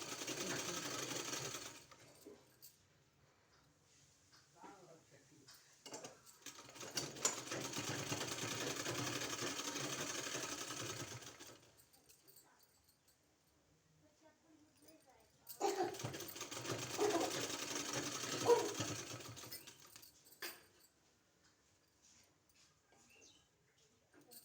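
A sewing machine stitches palazzo pant fabric in two long, steady runs of whirring, separated by quieter gaps with faint handling noises.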